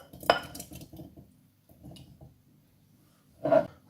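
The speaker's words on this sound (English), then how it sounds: "So basically what I'm going to do now is we'll pop all those onions in this jar" Pickling onions dropped into a glass jar, a few close clinks and knocks with quiet gaps between them, the loudest at the start and at the end.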